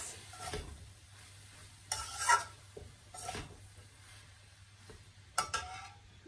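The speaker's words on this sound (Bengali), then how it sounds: "আর এই যে এই মাছটা ভাজা করে দিই" Small kachki fish frying in oil in a pan, soft sizzling with intermittent scraping stirs and utensil knocks, fairly quiet and close.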